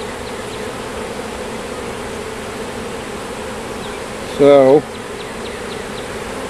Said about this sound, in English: We got bees everywhere. Bees all over me.